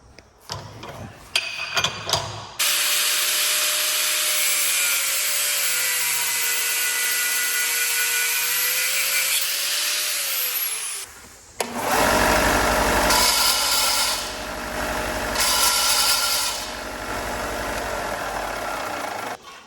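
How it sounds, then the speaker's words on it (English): An angle grinder cuts metal stock for a custom Jotul 602 stove ash tool, with a few clanks and then a long, loud, steady whine. After a brief break, a harsher, rougher grinding burst follows close by. "I'm just going to use an angle grinder to cut this off."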